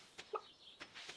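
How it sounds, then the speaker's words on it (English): Chickens cluck softly in Stardew Valley, with a few faint, brief clucks and peeps spread over a quiet farm background. "Oh, my beautiful chickens."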